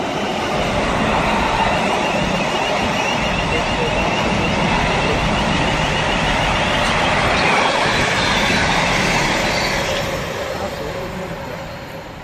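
A Class 90 electric locomotive passing through Rugeley Trent Valley station, a loud sustained rumble and roar of the train close by, holding steady before easing away in the final seconds.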